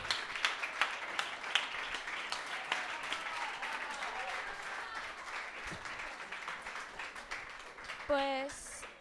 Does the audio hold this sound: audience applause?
yes